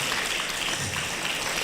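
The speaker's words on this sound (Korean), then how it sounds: "기분 좋으면 박수도 한번 치시고." An audience at a lecture on Buddhist meditation applauds, giving a dense, steady patter of many hands clapping together with no gaps.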